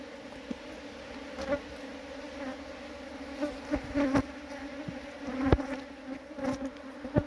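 Honey bees buzz steadily in an opened hive during spring preparation, a dense, continuous drone close by with a few louder passes of individual bees and no talk.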